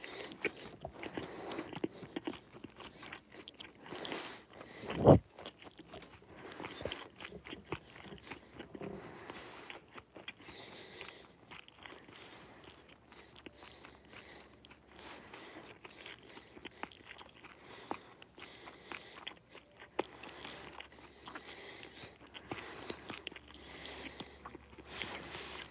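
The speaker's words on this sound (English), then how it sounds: "How about a little ASMR of me chewing?" Close-up chewing of food in ASMR style, with repeated crunchy bites and soft mouth sounds running steadily throughout, plus one sharp louder crunch early on and no talking.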